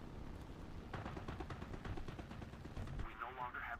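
Video game gunfire rattles in rapid bursts of shots through most of the stretch, moderately loud, with voices talking over it toward the end.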